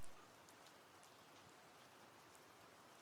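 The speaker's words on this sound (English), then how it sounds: "just let the rain settle around you" Steady rain falls in a soft, even hiss with faint scattered drop patters, quiet and continuous throughout.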